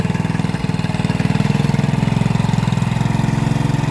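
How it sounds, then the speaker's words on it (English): A Briggs & Stratton minibike engine runs at a steady, loud, close idle, a rapid even chugging pulse after starting up, with no talk over it. "Okay, Gabe, fire it up. So we'll probably let it warm up for a minute or two"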